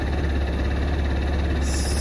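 A 2025 XPro Capri 150cc scooter engine idles steadily after a bad cold start, a loud, even, continuous rumble with a regular pulse and no talk.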